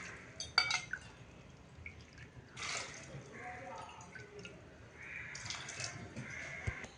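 Water pours into moth bean dal in a pot for cooking, giving intermittent splashing and trickling bursts that are fairly quiet and close.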